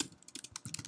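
Quick, close clicks of typing on a computer keyboard, several keystrokes in rapid succession, fairly quiet.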